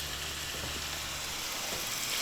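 Carrots and onions fry in a pan for wild pork fried rice outdoors, a steady soft sizzle and crackle that holds throughout at low volume with no talk.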